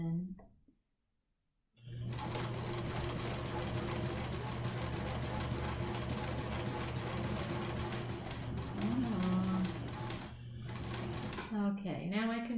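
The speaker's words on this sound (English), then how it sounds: "we'll stitch a couple, and then you can go back and run 3 stitches, and then forward again" A sewing machine stitches a fabric face mask with elastic at the side seam, running steadily and loudly for about ten seconds after a short quiet start, with brief pauses and a voice speaking over the motor.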